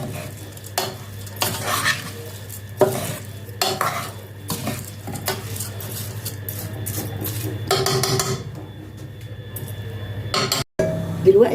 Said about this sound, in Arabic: هقلب الخليط ده مع بعضه